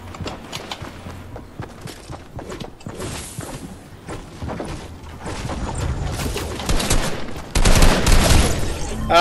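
Rapid bursts of gunfire in the video game Fortnite over dense, busy game noise, with shots growing louder and more intense toward the end.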